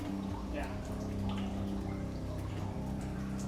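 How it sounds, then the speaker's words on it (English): Water trickles and drips inside an abandoned railway tunnel beside a river, a faint continuous wash under voices of people talking nearby. "Sounds like there's another water source over that way."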